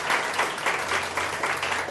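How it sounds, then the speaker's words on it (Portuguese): Brief, loud applause from a class audience at a Brazilian public-exam prep lecture, a steady wash of many hands clapping at once. "Uma salva de palmas para vocês todos."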